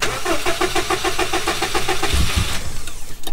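A 2003 Subaru WRX engine is started after sitting for a year: a rhythmic cranking whir for about two seconds, then it catches and settles into a loud close idle.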